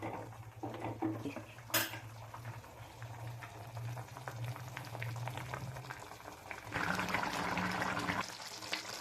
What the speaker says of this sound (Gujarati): હવે આપણે વાટકામાં કાઢી લઈએ